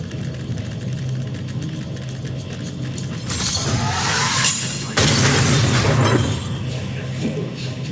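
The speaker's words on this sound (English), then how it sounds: "We wiped them all out in a single explosion!" A loud explosion in the video game Honkai Star Rail: a crashing, shattering blast erupts over a low mechanical hum, followed by a second burst of debris and rumble.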